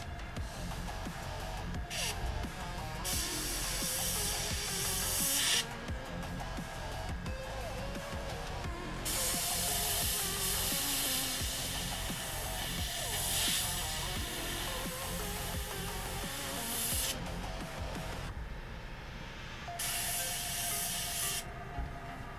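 Airbrush spray painting a Bushmaster model, bursts of bright hissing spray starting and stopping over a constant background hum, with quiet talk at times.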